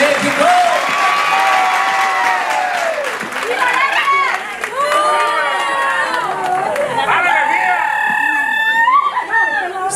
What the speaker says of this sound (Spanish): Entonces el aplauso.